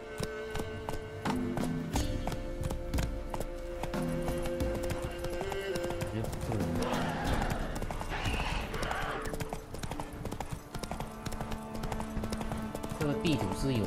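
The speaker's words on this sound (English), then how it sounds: "Not so fast, Roach." Horse hooves clip-clop at a trot in The Witcher 3 video game, a steady, close, rhythmic beat that continues throughout, with a voice speaking over it and game music underneath.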